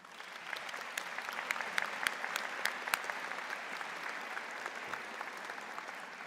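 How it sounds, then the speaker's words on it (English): Sustained applause fills a hall at a university convocation as the graduating audience claps for faculty and staff, a dense, even patter with no voices over it. "may I please ask you to join me in a round of applause"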